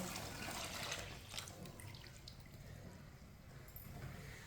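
Half a kilo of milk is poured into a pot of sugar for sweet vermicelli, a soft, steady liquid splashing and gurgling that carries on throughout at low volume with no speech.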